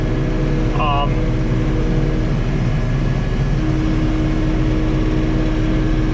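A John Deere 3046R compact tractor engine drones steadily and loudly at close range, with a constant low hum running throughout; a voice speaks over it, and a brief whine appears near the start.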